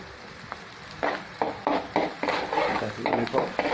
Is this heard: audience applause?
no